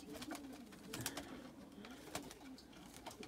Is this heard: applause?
no